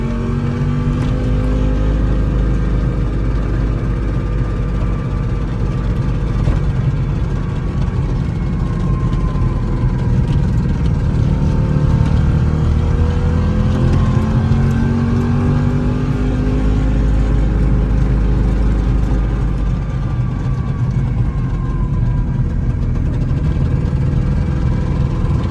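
A 1954 Fuldamobil NWF 200 microcar engine drones steadily and loudly while driving, its pitch rising and falling through gear changes with no talk over it.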